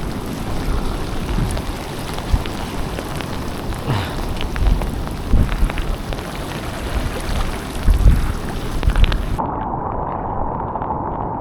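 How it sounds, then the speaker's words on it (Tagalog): Steady heavy rain pours down continuously, a dense broadband hiss with occasional louder gusts and drops, fairly close and loud. "Ulan na mga kaibigan."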